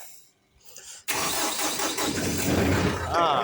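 A motor that had stood unused for days is started: a short quiet moment, then the engine catches abruptly and runs at a loud, steady idle up close.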